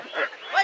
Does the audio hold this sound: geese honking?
yes